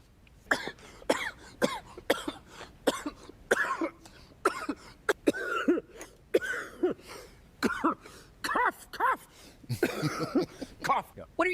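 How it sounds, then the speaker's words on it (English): Several sharp coughs and throat-clearing bursts come in a close, uneven series, mixed with a person talking nearby in a casual chat. "Cough."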